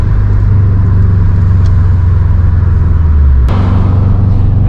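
A 2007 Subaru WRX STI accelerating hard while merging onto a highway, a loud close engine drone heard from inside the car that builds steadily and then drops in pitch at a gear change, with no talk.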